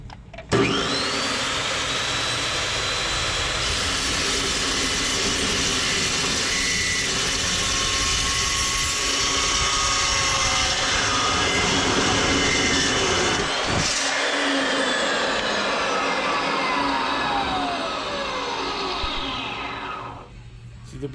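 A Fein cold cut chop saw spins up and bites through a metal workpiece, a loud steady whine with grinding cut noise lasting about twenty seconds, a brief clunk partway, then winding down at the end.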